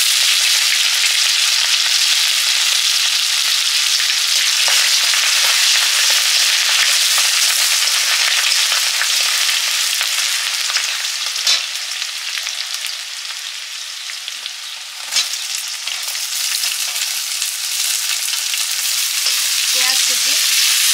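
Chopped garlic and bay leaf hiss in hot oil with a loud, dense, continuous sizzle, close up, with scattered spits and crackles and a brief dip midway, and no voices.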